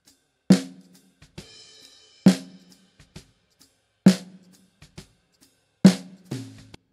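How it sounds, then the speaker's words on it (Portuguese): A snare drum hits on a steady beat, four crisp cracks with light ghost notes between them, heard in isolation with quick decay. "Esse é o som da caixa, beleza?"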